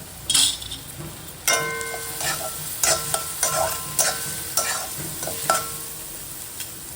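Chopped tomato hits hot oil in a pan with sautéed spices and ginger-garlic paste, and it sizzles while a spoon stirs it in repeated scraping strokes, with metal clinks against the pan and no talk.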